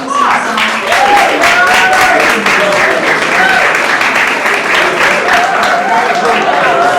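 An audience at the RP Baffour 2024 competition claps for the runner-up team, a dense, steady patter of many hands sustained throughout at close range, with a voice speaking over it.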